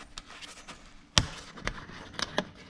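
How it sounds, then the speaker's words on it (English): A few small clicks and a sharper snap close by as the oil filler cap of a Yamaha R1 motorcycle is twisted loose, with light taps afterward; fairly quiet. "Why did you record me taking the cap off?"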